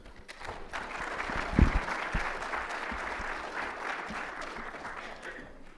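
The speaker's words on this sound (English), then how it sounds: "So warm round of applause, please." Moderate applause from a conference audience before a security talk rolls on steadily for several seconds, a mix of many hands with a few sharper close claps and some murmuring, tapering off at the end.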